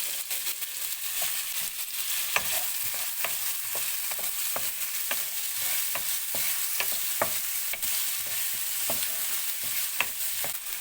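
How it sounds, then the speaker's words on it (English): Shallots, onion and green chilies fry in two tablespoons of hot ghee in a pan, giving a steady, close sizzle broken by frequent sharp clicks and scrapes of stirring. "Take the same pan, add 2 tablespoons of ghee, add the shallots, the onion,"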